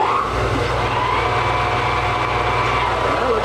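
Steady mechanical hum and whine of a part spinning on a machine in a workshop during a steady rest build, continuous and fairly loud with low drone underneath.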